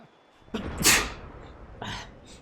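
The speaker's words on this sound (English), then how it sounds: "Stupid cold makes me sneeze all the time." Sneeze from someone with a cold, one sharp sudden burst followed by a softer second exhalation, close and loud against a quiet room.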